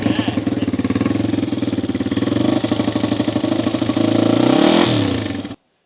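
A restored 1995 Honda XR250R single-cylinder engine runs close by with a rapid, even thumping beat, rising briefly in a rev near the end before cutting off abruptly into silence.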